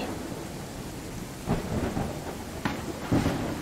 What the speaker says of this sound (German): Wir haben ein kleines Sommergewitter.